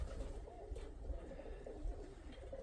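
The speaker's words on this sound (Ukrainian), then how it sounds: "А так, блядь, повинні підніматися миколаївські голуби." Soft coos of pigeons in Mykolaiv, Ukraine rise and fall over a low, rumbling background hum, fairly faint and continuous.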